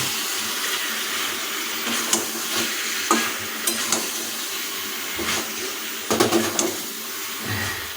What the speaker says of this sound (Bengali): এটাকে সুন্দরভাবে খুন্তি দিয়ে কিছুক্ষণ নাড়িয়ে নেব